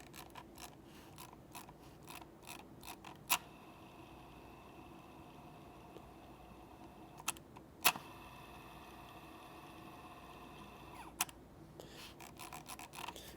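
Scroll wheel of a Logitech MX Master 2S mouse, heard alone at close range: rapid light ratchet clicks in short bursts, broken by a few sharper ticks where the wheel flips between notched and free-spinning modes.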